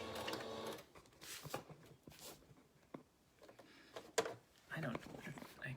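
A sewing machine stitching a fabric face mask runs in short separate bursts for back stitching, moderately close, with pauses and a faint voice between runs.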